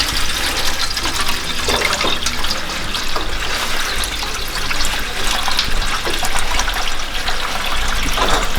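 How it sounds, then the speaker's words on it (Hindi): Water gushes steadily into a cooking pot in a home kitchen, being readied for steaming Himachali siddu, a loud close splashing stream that runs continuously for several seconds with no talking. "पानी डालूंगी और इसको उबलने के लिए रख दूँगी"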